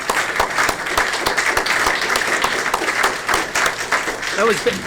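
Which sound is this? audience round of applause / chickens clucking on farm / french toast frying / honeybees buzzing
audience round of applause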